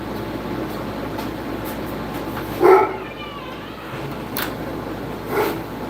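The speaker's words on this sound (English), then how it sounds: "What are you barking at?" A dog gives a few short, separate barks at moderate distance over a steady background hum.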